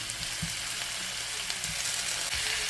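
Steady hissing sizzle of chicken pieces frying in a hot pan, with occasional soft pops and clinks, close and continuous.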